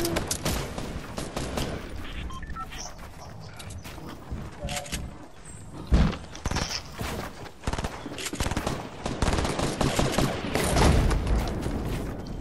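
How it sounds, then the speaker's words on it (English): Gunfire in a PlayStation 4 video game: bursts of rapid shots and scattered single cracks, loud and close, with clattering mechanical effects between volleys. "They shooting at each other."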